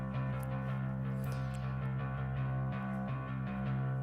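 Bass guitar run through a saturation plugin set all the way up: a thick, sustained, harmonically rich tone that stays steady and dense, held at an even level without any speech.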